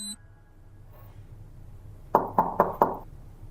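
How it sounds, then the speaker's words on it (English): Police officers knocking on an apartment door, four firm evenly spaced raps heard close after a quiet moment, with a low background hum. "the officers went directly to his apartment and knocked on his door"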